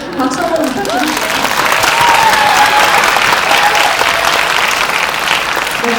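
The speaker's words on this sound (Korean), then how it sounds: "박수 한번 부탁드립니다." A large audience claps loudly at a film screening with a cast Q&A for the movie 'Hero' (영웅), producing a dense, sustained roar of applause that holds steady for several seconds, with crowd murmur and a voice briefly heard near the start.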